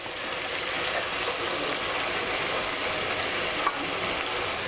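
Mutton keema with drumstick curry simmering in a pot, a steady close bubbling sizzle throughout with one faint clink partway through; no talking.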